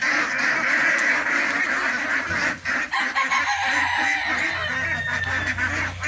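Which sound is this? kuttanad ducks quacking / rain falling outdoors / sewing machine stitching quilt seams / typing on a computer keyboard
kuttanad ducks quacking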